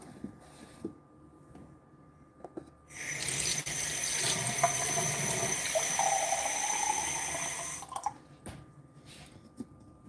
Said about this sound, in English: I'm going to put about a 1/4 inch deep of water.